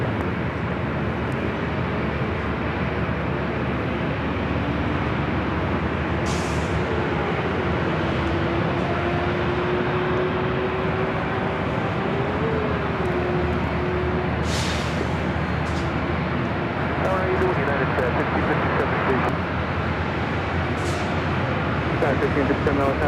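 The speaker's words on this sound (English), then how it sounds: "Nippon Cargo Airlines Queen now rolling." Nippon Cargo Airlines cargo plane rolling down runway 25 left at LAX for takeoff, a steady broadband engine roar that holds loud throughout, with a faint rising tone and occasional radio chatter over it.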